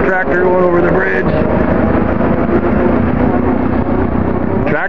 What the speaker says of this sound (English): Tractor going over the bridge.